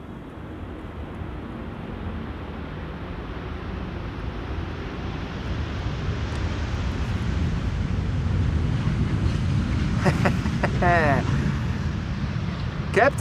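A Cathay airliner lands on the Polderbaan runway at Amsterdam Schiphol, a broad roar that builds and stays loud under gusty wind noise, with a brief voice near the end.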